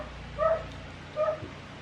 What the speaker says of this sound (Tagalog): Naingay yung aso sa labas